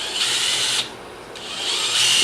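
A power drill whines loudly as it drives screws into wood, briefly pausing and then starting up again, close by with no speech.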